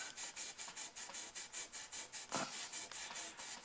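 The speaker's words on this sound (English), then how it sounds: "I'm going to start out with 600 grit this time" Fine 600-grit sandpaper rubs back and forth over the frets of a 2013 American Special Stratocaster guitar in a quiet, steady, rhythmic scratching of short strokes.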